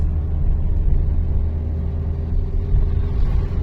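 Car engine running steadily during a driving test with a novice learner at the wheel, a low continuous rumble with mild rises as the car pulls away slowly, close and alone with no talk.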